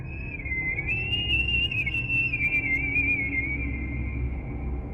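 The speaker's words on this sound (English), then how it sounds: "A high-pitched whistle coming from somewhere near the trees." A steady high-pitched whistle from near the trees holds one sustained tone for several seconds, wavering slightly in pitch over a low background rumble.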